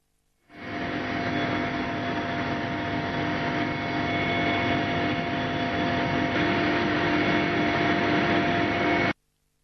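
A helicopter flies over flood-hit areas on an aerial survey, its engine a loud, steady whining roar that rises in at once, holds for about nine seconds, then cuts off abruptly, with no voices.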